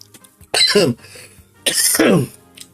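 Two harsh, close coughing bursts about a second apart, each a short rough hack with a raspy tail, quiet in between.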